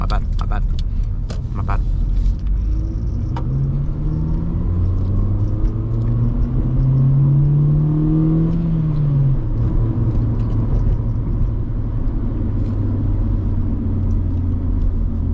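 A 2004 Honda Civic EP2 with a 1.6 litre engine rumbles steadily from inside the cabin, its revs audibly climbing and falling as it drives, with a voice talking over it.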